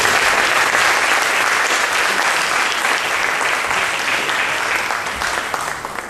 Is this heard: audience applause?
yes